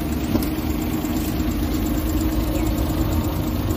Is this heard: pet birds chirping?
no